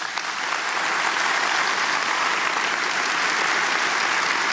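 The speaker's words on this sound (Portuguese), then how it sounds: "vamos dar uma salva de palmas para Jesus?" Congregation in a Brazilian evangelical church breaking into sustained applause, a dense, steady wash of many hands clapping at once that holds at full strength throughout.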